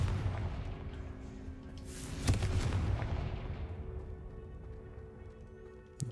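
A Confringo blasting spell goes off in a Harry Potter video game: a deep, booming explosion a couple of seconds in, then a rumble that fades slowly, with a small pop near the end.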